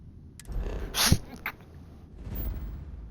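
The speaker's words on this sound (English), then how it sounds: "Sorry I keep sneezing," A single sharp sneeze bursts out once, loud and close, amid low background noise and faint murmuring.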